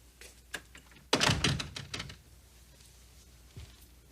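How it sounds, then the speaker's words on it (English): A door is shut in an indoor scene from a 1989 television soap opera. A few light taps come first, then a single solid, close thunk with a short rattle after it, followed by quiet. "Shut the door."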